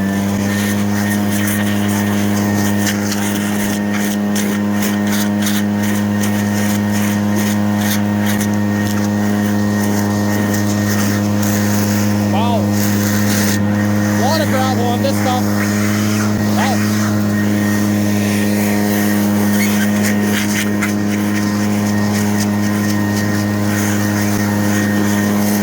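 A 65 cc gas engine idles steadily with a constant droning hum and buzzy harmonics throughout, loud and close, with someone talking over it.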